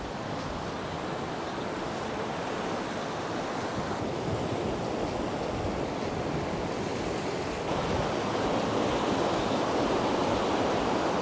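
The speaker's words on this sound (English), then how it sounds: "I just love these little waterfalls as well." Small waterfalls and streams on a countryside walk near Castle Campbell and Dollar in Scotland, giving a steady, loud, broadband rush of falling water that rises slightly near the end, with no voices.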